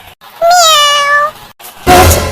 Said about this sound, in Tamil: எங்கிருந்து வந்துச்சு இந்த பூனை?